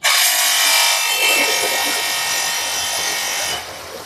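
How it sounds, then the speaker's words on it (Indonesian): A water pump runs with a loud, steady, rasping whir, its noisy filter cover catching the fan and adding a harsh scraping buzz that holds throughout before easing a little at the end. "Ini permasalahannya itu pompanya bunyi."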